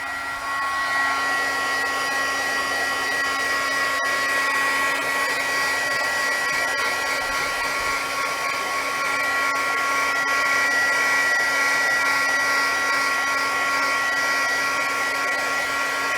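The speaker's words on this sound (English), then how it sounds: "I'm going to run this heat tool over it" Craft heat tool blowing steadily over a stamped card to dry it, a continuous loud whirring hum with constant airflow noise and no pauses, no talking.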